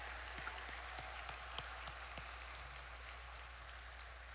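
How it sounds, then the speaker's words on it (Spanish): A large assembly crowd applauds with a dense, steady wash of clapping, distant and even, with a few sharper individual claps standing out early on. "le daremos un fuerte aplauso de gloria a Dios"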